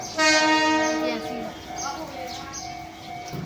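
Yangon circular train in Myanmar, its horn blaring loud and close at the start and then fading into rumbling rail noise, with faint tones continuing beneath.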